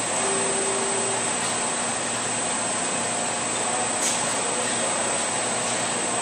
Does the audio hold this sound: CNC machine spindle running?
yes